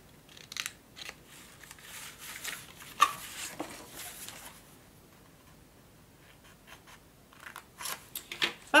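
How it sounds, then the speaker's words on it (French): Scissors cutting a re-entrant angle into a paper mini album cover, a close, quiet series of crisp snips and slicing scrapes in irregular bursts, without talk. "Ici, on va venir couper en angle rentrant également."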